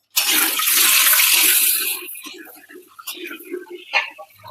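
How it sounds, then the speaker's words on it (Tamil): Spices for a shark curry hit hot oil with a loud burst of sizzling that fades after a couple of seconds, and a person talks over the softer crackle that follows. "எண்ணெயில தாளிச்சிருவோம்."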